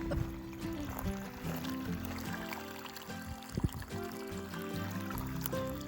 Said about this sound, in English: It's coming out of the well, and it's starting to look fairly clear there